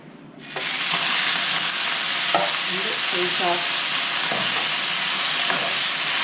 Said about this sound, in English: Toss the meat so we squeeze it on all sides.